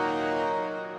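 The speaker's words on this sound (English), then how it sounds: "It's the Santa Maria pad from the Factory 2 library." The unprocessed Santa Maria synth pad from VPS Avenger Factory 2, a single rich sustained chord heard alone, steady and full for about a second with a slight fade.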